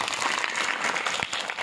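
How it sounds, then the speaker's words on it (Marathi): An audience at a school felicitation ceremony bursting into applause, a full, continuous crowd of clapping hands heard up close and fairly loud. "एवढी सुंदर शाळा भूमी बांधल्याबद्दल जोरदार टाळ्यांचा कडकडाट झाला पाहिजे"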